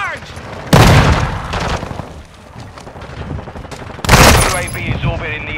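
A thrown charge explodes in Call of Duty: Modern Warfare II, two loud booming blasts about three seconds apart over a steady backdrop of gunfire and battle noise, with voices talking underneath.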